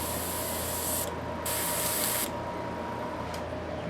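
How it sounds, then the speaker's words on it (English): Red paint hisses from a spray can onto a 1:350 scale Enterprise refit model, two close, steady bursts with a short pause between them and a brief puff at the end. "Make sure we're getting a good clean spray here."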